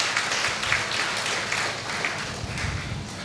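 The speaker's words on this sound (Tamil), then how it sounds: "அவங்க எல்லாத்துக்கும் இன்னொரு தடவை கைத்தட்டிடலாம்" Studio audience applause for a team at a Survivors Day event recorded for radio, a sustained, fairly loud patter of many hands clapping with no talk over it.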